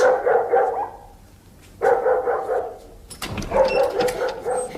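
Loud, close barking from a dog indoors at night comes in three bursts separated by short pauses, with a few knocks and clatters near the end. No voices are heard.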